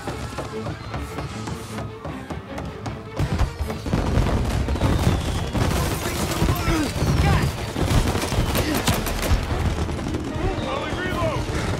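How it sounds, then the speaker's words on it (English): Repeated explosive bangs and crackling bursts of fireworks in Mafia: Definitive Edition, growing denser and louder after a few seconds, with music and effects underneath. "And now for the fireworks"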